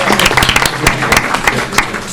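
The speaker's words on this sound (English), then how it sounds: "Let's give them a round of applause." Brief burst of applause for students at a school district board meeting, a short run of sharp, uneven claps from a small group, fairly loud and close, with no talk over it.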